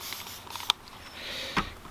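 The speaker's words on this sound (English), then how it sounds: "Just going to give that a spray." Two short hissing bursts from a water spray bottle misting a watercolour painting outdoors, quiet and close, with a low breezy background.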